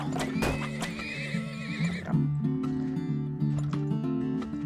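Horse neigh and clip-clopping hooves in the oil-drilling video game Turmoil, a loud whinny at the start over steady game music, with hoof sounds continuing beneath the tune.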